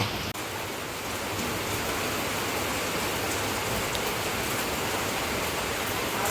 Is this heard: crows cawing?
no